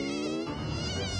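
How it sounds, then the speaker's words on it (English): Cartoon mosquito buzzing, a close, steady high-pitched whine that wavers in pitch, heard alone. "Watch out, mosquito."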